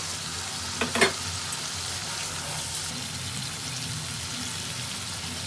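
Prawns frying in a spice masala as salt and sliced green chilies go in, a steady close sizzle with a brief burst of clattering scrapes early on, then continuous bubbling frying noise.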